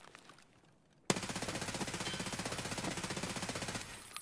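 Rapid automatic gunfire in Escape from Tarkov as a full magazine is emptied in one loud, continuous burst of evenly spaced shots after a brief quiet moment.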